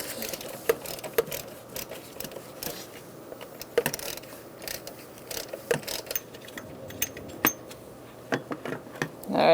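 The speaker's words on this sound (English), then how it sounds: "gently, using a 15mm socket, we're going to take this bolt out" A ratchet with a 15mm socket backs out a bolt on a 1998-2011 Ford Ranger 3.0L V6 during serpentine belt work, giving quick, uneven bursts of sharp metallic clicks close by over a low mechanical background.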